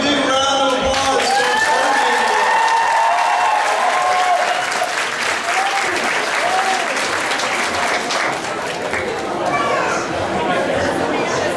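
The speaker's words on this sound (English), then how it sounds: "Give a big round of applause" Loud, sustained applause fills a convention costume contest hall, with crowd chatter and cheers mixed in and a voice briefly heard over the clapping.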